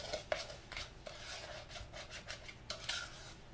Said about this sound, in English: I'm going to stir that up with my handy spoon.